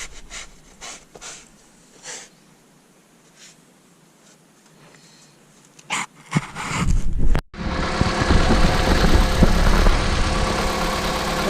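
A 2013 Mazda 3 Skyactiv engine cranks to life after a quiet stretch of faint rustling and handling noise, then settles into a loud, steady idle.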